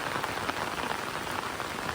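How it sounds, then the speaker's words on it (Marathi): Steady rain patters down on a hard surface, a dense, even hiss of drops with no voices, close and continuous throughout. "किती पाऊस आहे किती मी फिरते पावसामध्ये"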